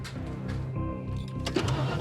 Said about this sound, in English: turns the ignition